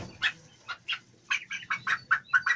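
Orpington chickens and roosters clucking close by, a quick irregular series of about ten short clucks over quiet background.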